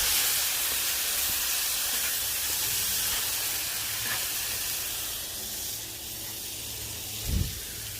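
Baby back ribs sizzle in oil on a Blackstone griddle, a steady, close, broadband hiss that fades slightly toward the end, broken by a brief clunk near the close.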